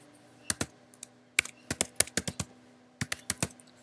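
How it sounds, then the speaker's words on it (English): Rapid bursts of keystrokes on a computer keyboard as an email address is entered, with irregular clusters of close, crisp clicks and short pauses and no voices. "Just type my email."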